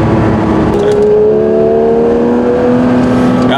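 A Porsche 992 GT3 driving on a track, its engine a loud, steady whine with a slowly rising pitch heard from inside the car, with a brief voice near the end.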